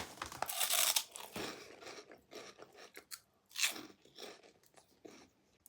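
Crunchy chickpea chips seasoned with Aegean spices are bitten and chewed up close, giving loud, sharp crunches that fade into a run of irregular, softer chewing crackles.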